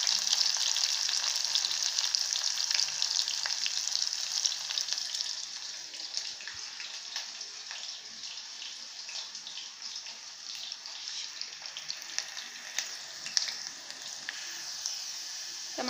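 Cumin seeds and green fenugreek fry in hot oil for tomato chutney, giving a steady, soft sizzle that runs unbroken and fairly quiet throughout.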